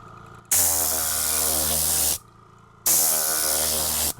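TORNADOR air cleaning tool blowing compressed air to dry a car interior during detailing, two loud sharp hissing bursts of about one and a half seconds each, separated by a short pause.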